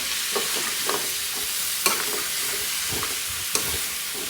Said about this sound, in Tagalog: Halu-haluin muna natin.